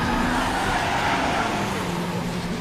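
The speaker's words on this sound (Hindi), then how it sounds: "गाड़ी चला" A jeep engine pulls away, a steady loud motor drone holding throughout with no voices over it.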